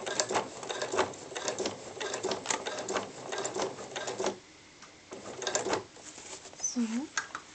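A sewing machine stitches a notebook cover made of SnapPap, running in close, rapid bursts with short pauses between them, while a voice speaks over it.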